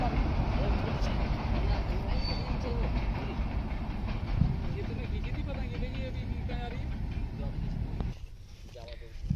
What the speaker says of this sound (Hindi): ये देखो ट्रेन जा रही है